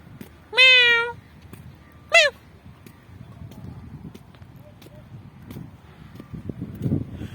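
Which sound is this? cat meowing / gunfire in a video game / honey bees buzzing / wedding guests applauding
cat meowing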